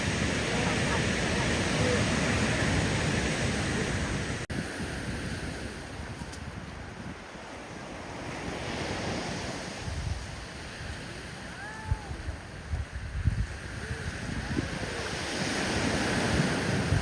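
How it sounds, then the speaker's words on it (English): Ocean surf rolling onto a gray sandy beach at Ruby Beach in Olympic National Park, a steady wash of breaking waves with gusty wind buffeting the microphone throughout. "it was a typical sandy beach with very gray sand"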